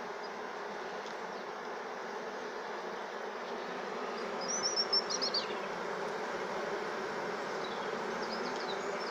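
A swarm of honeybees being hived keeps up a steady, dense buzzing for the whole stretch, a continuous hum that swells slightly midway, with a few fainter passing buzzes close by.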